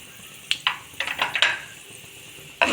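Chana dal, urad dal and two pieces of cinnamon hit hot oil for cabbage rice, giving close, crackling sizzle bursts and sharp pops in short clusters, with no talking.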